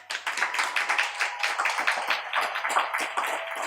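An audience claps steadily and continuously, a dense patter of many hands at moderate loudness with no voices over it.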